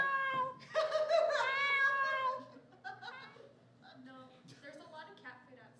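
A cat meows in drawn-out, whining cries, loudest at first and then quieter and more broken toward the end.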